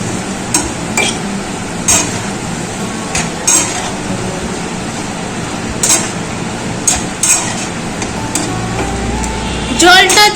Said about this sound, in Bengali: এবার দিয়ে দিচ্ছি তরকারির জন্য পরিমাণ মতন জল। নেড়ে চেড়ে নিচ্ছি।